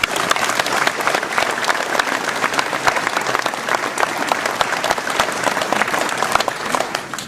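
Sustained, even applause from an audience at a mayor's New Year address in Ouistreham, a dense patter of many hands clapping that continues throughout with no voices over it.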